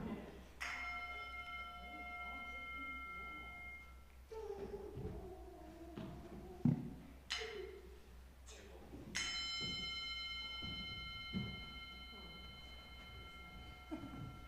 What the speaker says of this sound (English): Do you want to ring the bell?